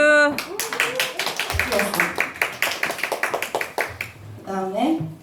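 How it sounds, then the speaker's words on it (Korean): Group clapping at a church Christmas gathering, a run of quick rhythmic handclaps from several people that starts after a brief spoken bit and ends as a voice speaks again. "박수"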